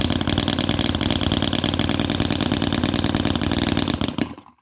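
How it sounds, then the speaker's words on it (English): A Microcosm R28 working model V-twin motorbike engine runs on one cylinder with a steady, loud, rapid chugging close by, then cuts out abruptly near the end and falls silent. "Okay, it's running on one cylinder."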